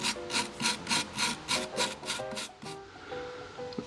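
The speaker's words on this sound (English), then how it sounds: "I'll get that brushed off, blow it off with compressed air" A brush scrubs loose bark off a natural-edge turned wooden bowl in about nine quick, regular rasping strokes, close and fairly loud, followed by a quieter scuffing.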